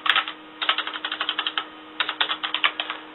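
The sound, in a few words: typing on a computer keyboard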